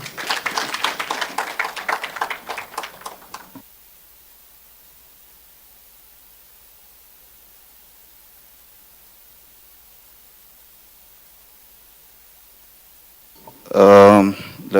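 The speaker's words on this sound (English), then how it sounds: "Let us all clap hands for our moderator and speakers." An audience at a panel discussion closing session briefly applauds the moderator and speakers, a short burst of clapping arriving after a voice speaks and a long stretch of near silence.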